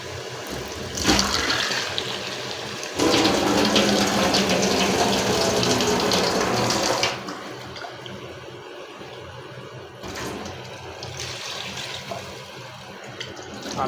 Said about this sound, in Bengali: এখন আমি অল্প কিছু পানি দিয়ে দেবো।